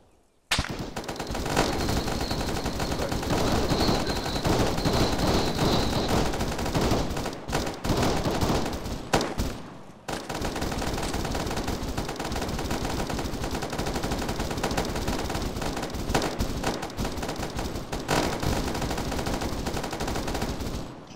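Sustained machine gun suppressing fire during a training exercise, a dense continuous rattle of rapid bursts lasting the whole stretch with brief gaps near the middle, loud and close.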